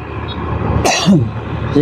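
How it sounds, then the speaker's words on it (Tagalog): A single sharp cough bursts out near the middle, loud and close, surrounded by low engine-like rumble from a waterway where tugboats pull barges. "kanina pa ako inuubo"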